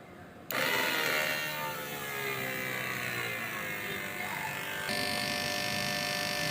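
The fuel pump on a fuel injector test bench switches on abruptly and then runs as a steady mechanical whine and hum. Partway through, its pitch and level shift slightly higher.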